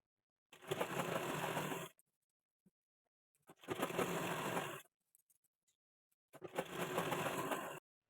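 Sewing machine stitching a side seam of a six-panel petticoat, whirring in three even bursts of about a second each, separated by quiet pauses, with no talking.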